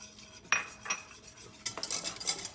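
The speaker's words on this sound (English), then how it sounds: "we're going to take our quarter cup of all-purpose flour and we're going to whisk it in until it is nice and smooth" A whisk works quarter cup of all-purpose flour into melted butter for a Mexican cheese sauce, with light metallic scrapes and taps against the pan, irregular and fairly quiet, close by.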